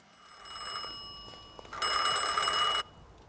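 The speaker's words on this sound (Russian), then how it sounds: "У нас звонит телефон" A telephone rings in the video game The Thaumaturge: a bright electronic trill that starts softly, then bursts into a louder, steady ring for about a second before cutting off abruptly.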